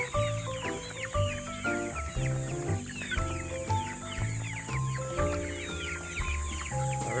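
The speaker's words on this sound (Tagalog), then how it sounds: "our chickens are almost finished with their morning meal" Chickens on a farm cluck and chatter in a busy, overlapping flock as they finish their morning feed, the calls close and steady over soft background music.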